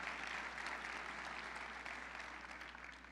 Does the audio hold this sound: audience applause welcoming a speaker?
yes